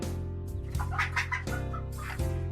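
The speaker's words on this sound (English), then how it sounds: "And the second chicken sound." A game chicken sound effect in a Godot 2D farming project, a brief burst of clucking over continuous looping farm music, close and clear, no voices.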